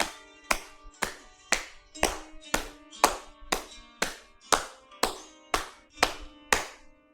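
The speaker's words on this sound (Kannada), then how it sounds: "ಕಾಲುಗಳನ್ನು ಕ್ಲ್ಯಾಪ್ ಮಾಡಿ ಜೋರಾಗಿ, ಕೈಗಳನ್ನು ಮಾಡಿ 10-20 ಸಲ" Hands clapping on the legs as a health exercise, a steady series of about thirteen sharp, even slaps at a regular rhythm, close and clear with no talking over them.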